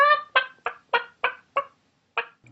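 A chicken clucks near a village footbridge, about seven short, sharp clucks in a fairly even rhythm, close and clear against silence, with no talk.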